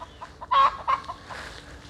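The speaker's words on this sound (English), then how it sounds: "There's chickens." Chickens cluck nearby in short, irregular bursts, a couple of louder clucks standing out against a quiet outdoor background.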